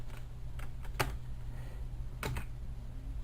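Keystrokes on a computer keyboard, entering a search query into Google, sounding as a few quick clustered clicks that stand out over a steady low hum, with no talking.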